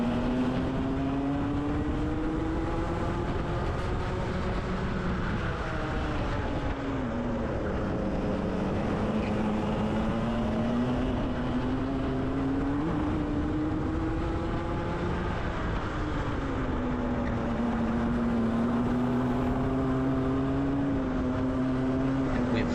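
Racing karts at Llandow circuit, a continuous engine whine rising and falling in pitch as a kart accelerates and brakes around the track, steady and fairly close, with no talk.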